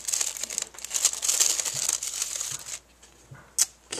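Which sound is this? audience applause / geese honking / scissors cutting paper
scissors cutting paper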